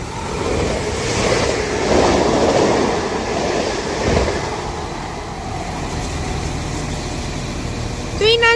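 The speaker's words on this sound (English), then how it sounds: "now getting ready to pass through is going to be a Transpennine Express Class 397 for Glasgow Central" TransPennine Express Class 397 train bound for Glasgow Central passing through East Didsbury station on the Styal Line, a loud rolling roar with clickety-clack that swells and then eases, ending in a brief high squeal.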